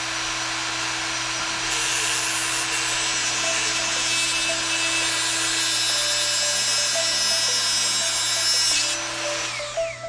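Grinding down a part on an RC sailboat repair, a steady, continuous high-pitched rasping and whirring that holds close and loud for most of the clip with a constant low hum beneath, then tapers off near the end.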